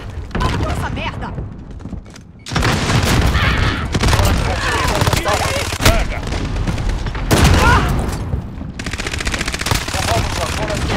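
Call of Duty Modern Warfare match with a grenade explosion and bursts of gunfire, loud and dense throughout with several heavy booms, brief gaps between volleys, and speech mixed in.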